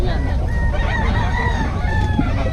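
Several chickens cluck and a rooster crows nearby, overlapping calls from a flock amid a busy outdoor background with faint voices.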